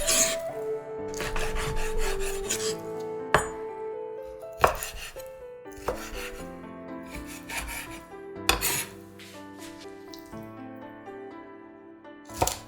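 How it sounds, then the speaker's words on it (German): A knife chops chicken thigh meat into small pieces on a cutting board, with sharp irregular close knocks and scraping cuts spaced through the passage, no talking. "Das Fleisch in kleine Stücke schneiden."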